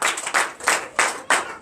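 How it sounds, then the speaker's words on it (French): A church congregation at a Sunday service claps in acclamation, with quick bursts of hand claps coming in uneven waves, close and lively, and no voices on top. "Donnez l'acclamation à Jésus."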